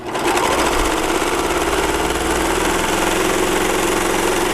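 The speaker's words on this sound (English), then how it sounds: "And a serger sews lickety-split." A serger overlock sewing machine stitches and trims fabric in one fast, continuous mechanical whir, close and loud, running steadily without pause.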